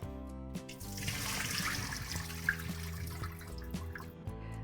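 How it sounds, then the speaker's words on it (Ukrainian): Clean soaking water is poured off Danube herring (dunaika) before they are salted, a steady splashing, trickling pour close by with no talk. "зливаю чистеньку воду і на засолочку"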